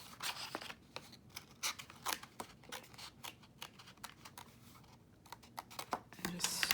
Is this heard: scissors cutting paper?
yes